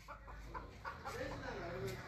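A hen clucks in short, repeated bursts close by, with background noise and some indistinct voices mixed in.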